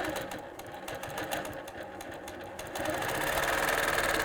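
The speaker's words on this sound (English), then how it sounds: "But no matter what I do, I have to double stitch somewhere." A long arm quilting machine double stitches, a fast rhythmic mechanical chatter close by that grows louder and busier in the final second and a half.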